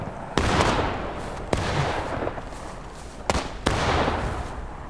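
Musket volleys in a War of Rights skirmish, several sharp cracks spaced a second or two apart, each trailing into a rolling echo over continuous distant firing.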